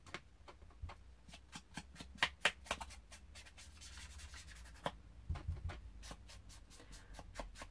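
A paper card is rubbed in quick, repeated scratchy strokes to give it an aged vintage look, the dry brushing rhythm close and continuous with brief pauses.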